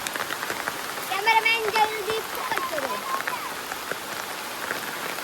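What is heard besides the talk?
heavy rain falling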